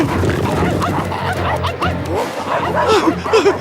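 Cartoon dog from The Garfield Show barking and yipping repeatedly at close range, with whimpering yelps mixed in over a busy animated soundtrack.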